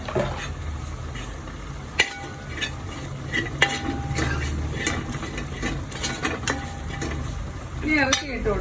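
A spoon stirs pepper powder and salt around a hot pan for a Trivandrum-style kappa beef biriyani, giving scraping and clinks against the metal over a soft, steady sizzle, with a few sharp knocks.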